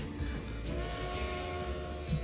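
A train in the Transport Fever game rumbles along with steady tonal horn-like hum and soft rail clatter, continuous at moderate loudness with no talking.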